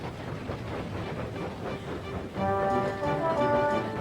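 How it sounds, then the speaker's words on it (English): Edward, a cartoon steam engine, puffs along the rails across the countryside, a soft rhythmic chuffing and rolling clatter, joined midway by a brighter tonal whistle-like chord. "Edward puffed across the countryside."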